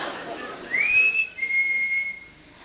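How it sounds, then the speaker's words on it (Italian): A person whistling during a dialect comedy stage performance, a single rising then sustained clear whistle tone, fairly close and prominent, with faint room sound beneath. "Oh! E questo non mi pare il fischio di Filomena!"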